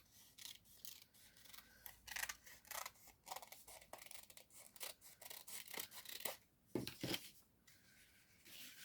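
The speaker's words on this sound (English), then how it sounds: "I'm going to just cut it at this edge off." Scissors snip through fabric from an embroidery kit, a quiet run of close, crisp cuts and rasping strokes in an irregular rhythm, with no talking.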